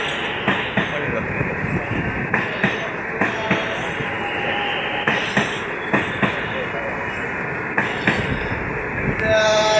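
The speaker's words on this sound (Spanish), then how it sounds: "ahí salió el CCR con 9 coches" A CCR air-conditioned passenger train with nine cars departs Merlo station in Buenos Aires province, its wheels clacking rhythmically over rail joints in a loud, steady roll close by.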